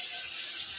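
Water pours into a pot of meat and potato curry broth as a brief, steady hissing splash, close and alone.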